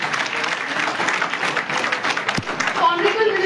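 Sustained crowd applause greets Dr Jitendra Singh, Minister of State in the PMO, arriving at a mock youth parliament. The clapping is dense and continuous while an announcer speaks over it.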